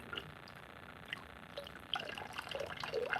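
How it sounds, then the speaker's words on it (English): Liquid pours from a handmade pottery vessel in short trickling and splashing bursts, quiet and close, with the flow getting busier toward the end. "This pours. Let's see how this pours."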